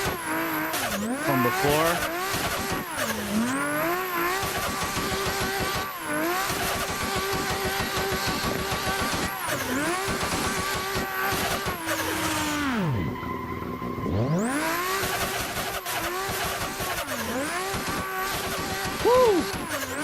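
Drift cars in Assetto Corsa, a BDC V6 among them, engines revving and wailing while tires squeal and skid through long slides, loud and continuous with a brief drop around the middle and a few words spoken.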